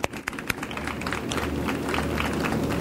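Audience applause at a freshmen academies milestone celebration: a few early claps swell into steady, even clapping from a crowd that holds for nearly three seconds, moderately near and full.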